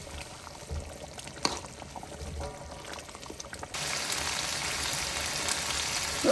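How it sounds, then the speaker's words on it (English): Steady hissing sizzle of chicken stir frying in oil in a pan for chicken karahi, with a brief louder stir around the middle and a brighter, denser sizzle in the second half. "I was stir frying the chicken"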